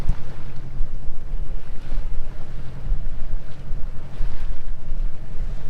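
A sailboat motors out through the channel of Maratua atoll, its low engine drone and water rush steady and loud beneath gusting wind buffeting the microphone, with no talking.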